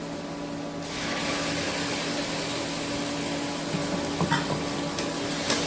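Tomato paste being stirred into a Nile tilapia fish curry masala with ginger-garlic paste: a steady close sizzle with faint scraping of the spoon, alone without talk.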